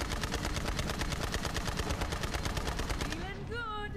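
Vehicle-mounted guns in Borderlands 3 firing a rapid, loud, sustained burst of evenly spaced shots for about three seconds, then stopping as a rising whining tone and engine hum take over.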